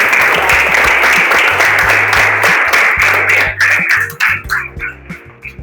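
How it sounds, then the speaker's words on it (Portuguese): A crowd gives a round of applause at a store event honoring junior firefighters. The clapping is loud and steady over low background music, then breaks into scattered claps as it dies down. "Salva de palmas."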